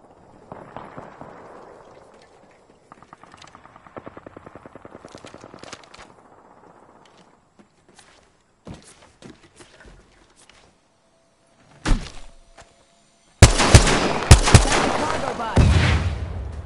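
Gunfire in the video game Destiny 2: scattered faint rapid bursts and single cracks early on, then a loud, dense roar of shooting and explosions near the end, with a voice heard briefly.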